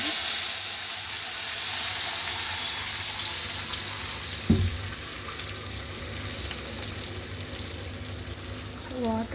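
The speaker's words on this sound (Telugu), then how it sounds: "వాటర్ ఇలా ఉడుకుతుంది కదా" Water simmers and sizzles in a pan over fried garlic and green chillies, a steady bubbling hiss throughout with one sharp clatter midway and a brief scrape near the end.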